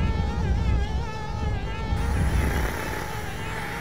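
Bees from the video game Conker's Bad Fur Day drone in a steady, loud, wavering buzz that fills the whole stretch, with game background sound beneath and no talking.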